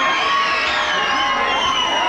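A large crowd at a Dandiya night roars and cheers in a steady, loud, continuous wash of voices with no pauses.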